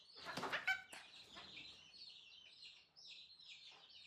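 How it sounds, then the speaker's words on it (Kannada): Two chickens cluck softly nearby, with a short burst of calls and a wing flutter near the start, then quieter scattered clucks that fade into near silence. "ಇವೆರಡು ಕೋಳಿಗಳು ನೋಡಿ,"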